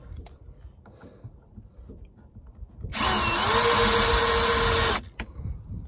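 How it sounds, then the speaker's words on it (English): An 18-volt cordless drill whirs loudly for about two seconds, its motor pitch dipping slightly under load, with quiet room noise before and after. "this 18-volt drill just plows"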